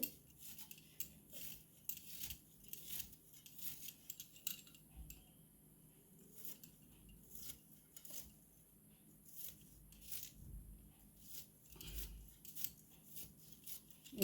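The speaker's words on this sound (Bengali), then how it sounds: "দেখছো জিরি জিরি করে কীরকম কুচাচ্ছি।" A knife finely chops banana stem (thor) on a board, a quiet, steady run of quick crisp cuts in close, rapid succession with no talking.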